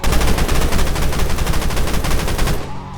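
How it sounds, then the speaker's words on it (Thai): Continuous rapid machine-gun fire in a video game, loud and close, rattling for about three seconds before cutting off. "เอาแล้วยิงกันนะ"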